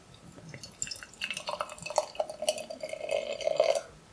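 Screwface sour beer is poured into a glass, a close, quiet trickle of liquid with small splashes and fizzing that builds as the glass fills.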